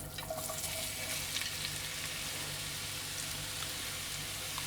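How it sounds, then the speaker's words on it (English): Sliced onions go into cooking oil in a hot pan and fry with a soft, steady sizzle, fairly quiet throughout, with a few faint clinks near the start. "Into the pan goes my cooking oil, and then my sliced onions"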